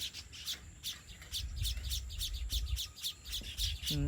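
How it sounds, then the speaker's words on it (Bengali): Birds chirp repeatedly in quick, bright bursts, several calls overlapping against a faint low background rumble. "পাখির ডাকও আপনারা শুনতে পারছেন"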